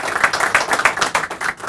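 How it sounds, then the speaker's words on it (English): An audience claps for Dr. Rossman at a school event, a steady run of quick, evenly spaced claps close by with no voices. "Let's give Dr. Rossman a big round of applause."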